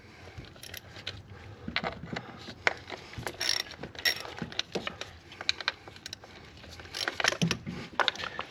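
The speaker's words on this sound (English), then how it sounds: "I'm going to loosen off the bolts first" A ratchet works loose the ignition coil bolts on a HEMI engine, with bursts of quick metallic clicking and small clinks of tools and parts, close by and moderately quiet.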